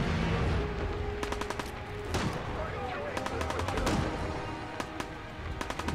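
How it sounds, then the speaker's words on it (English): Rapid gunfire in Fallout 4, with bursts of sharp shots in quick clusters and single cracks between them over a busy game soundscape, loud and close. "Why are you shooting at me?"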